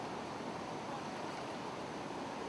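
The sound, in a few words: Gurara waterfall rushing water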